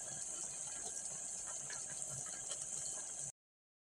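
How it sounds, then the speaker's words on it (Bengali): Egg korma coming to a boil in a pot gives a steady, continuous bubbling simmer with faint pops and crackles, close and even throughout, with no voices. "তো বন্ধুরা দেখেন ডিমের আমার কোরমাটা বলক এসে গেছে"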